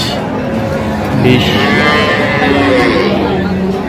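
A cow at a rural cattle market moos loudly nearby, a drawn-out low call. Crowd chatter and voices fill the background.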